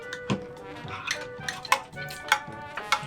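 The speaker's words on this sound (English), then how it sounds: "now I'm just gonna keep on mixing" Glue and activator slime being stirred in a bowl, with sticky, squelching pulls and occasional clicks of the spoon against the bowl over a steady faint hum.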